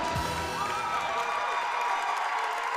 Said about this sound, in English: They practically jumped through the roof cheering for her.